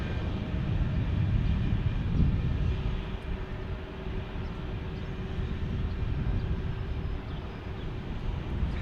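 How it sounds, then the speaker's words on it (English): Boeing 737 airliner at Salt Lake City airport, a steady broad engine roar and rumble heard from a distance, continuous and fairly loud with no talking. "There's our 737."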